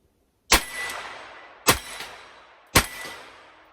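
Three shots from a pistol-caliber carbine ring out at a shooting range, each a sharp crack followed by a ringing clang off a steel target, evenly spaced about a second apart and loud.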